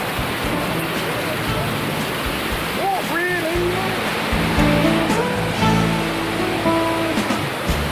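A Sri Lankan waterfall swollen after rain rushes in a loud, unbroken roar close at hand, while people talk over the water.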